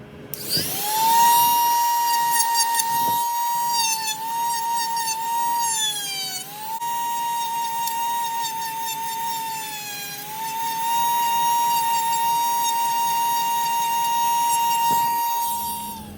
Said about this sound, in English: We're just gonna take a Dremel, grind this down now.